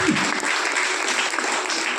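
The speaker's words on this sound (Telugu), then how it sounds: "చప్పట్లు కొట్టండి ఒకసారి" A congregation at a Telugu church gathering applauds together in a brisk, dense wave of clapping that holds steady for about two seconds, close and fairly loud, with no speech over it.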